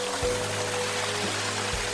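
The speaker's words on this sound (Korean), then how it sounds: "폭포가 이렇게 흐르고 있습니다." A small waterfall pours into a stream where crayfish live, producing a steady, close, broadband rush of water that holds even and continuous with no talk.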